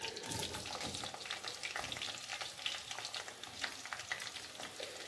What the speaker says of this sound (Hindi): ये देखिए इसमें मैंने प्याज डाल दिए हैं, इनको मैं सोते करके